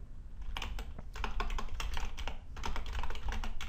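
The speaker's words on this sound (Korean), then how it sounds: "10, 100, 1000만, 10만, 100만 이라고 치고 엔터를 치면" Numbers are typed into a spreadsheet on a computer keyboard: a quick, irregular run of close, crisp key clicks with short pauses between bursts.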